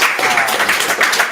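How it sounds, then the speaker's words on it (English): Short burst of audience applause for the speakers at the close of a broadcast discussion on a banking crisis, continuous and fairly loud. "let's give our speakers a round of applause"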